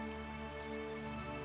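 Raindrops fall at night in a soft, steady patter with a few brighter drips standing out, faint and calm beneath a sustained tonal hum.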